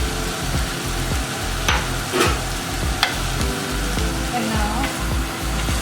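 Onions and capsicums sautéing in a pan for homemade pizza, a loud continuous sizzle with scraping stirs and occasional clicks; a voice speaks briefly.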